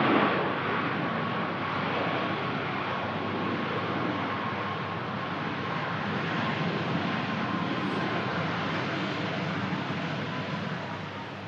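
Ryanair Boeing 737 MAX 8-200 jet landing at Manchester, heard as a steady, sustained broadband engine roar that holds fairly constant with a slight swell, close and loud, with no voices.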